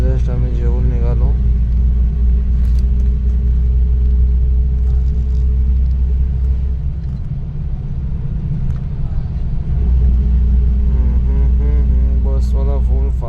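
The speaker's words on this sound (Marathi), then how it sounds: "बसवाला फुल फास्ट बस चालवतो एकदम स्पीडमध्ये." Steady, loud engine rumble and road noise from inside a bus driving fast at night on a Goa expressway, continuous throughout, with a person talking over it.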